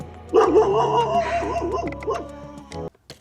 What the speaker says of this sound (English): of course there's a dog